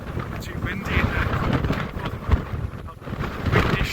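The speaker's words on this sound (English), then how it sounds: "It's too windy in there." Strong gusty wind blasts across the microphone outdoors in Iceland, a rough, buffeting roar that swells and dips in uneven gusts throughout.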